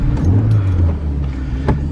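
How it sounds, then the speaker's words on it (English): A small 660 cc turbo car drives along at close range, its steady low engine hum and road rumble continuous with no voices. "It's a small car."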